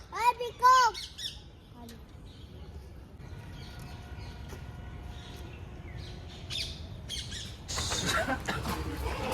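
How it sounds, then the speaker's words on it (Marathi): Loud, harsh squawking peacock calls ring out at the start at a zoo, then fade into quieter outdoor ambience with scattered chirps and a noisier stretch at the end. "मोर बघितला ना पिकॉक पिकॉक"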